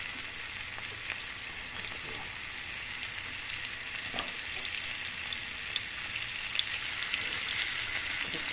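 Shrimp with garlic sizzles and crackles steadily in butter in a hot pan, with sharp pops scattered throughout and no talking.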